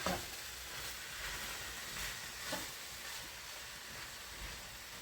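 Garlic and zucchini with tomatoes cooking in a pan for ratatouille pasta, a soft continuous sizzle with a few gentle scraping stirs, fairly quiet and close.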